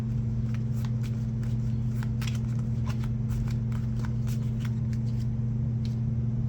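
Cards from a baseball board game are shuffled in quick repeated riffles and flicks, crisp papery bursts over a steady low electrical hum.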